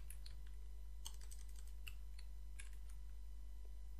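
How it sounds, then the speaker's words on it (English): Soft, quick clicks of a computer keyboard come in short bursts of keystrokes, faint and close, over a steady low electrical hum. "Then I'll type here"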